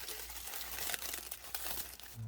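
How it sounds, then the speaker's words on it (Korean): Paper packing cushioning inside a shipping box for shaving soap and aftershave is unwrapped, giving close, irregular crinkling and rustling with sharp crackles, no voices. "이 종이 완충제를 열면"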